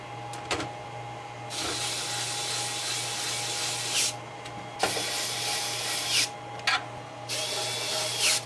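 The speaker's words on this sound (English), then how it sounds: "as I use this screwdriver, I have it set to 1" An electric screwdriver set to its lowest torque setting whirs steadily in several long bursts, tightening a screw in a repair shop, with brief pauses and clicks between runs, close and fairly loud.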